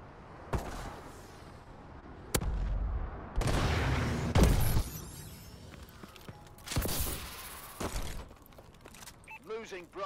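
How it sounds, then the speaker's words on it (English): Video-game missile strikes boom and crack in heavy bursts with sharp single blasts and rumbling barrages, loud and near, separated by quieter battlefield gaps, with a brief voice near the end. "Missile strikes incoming."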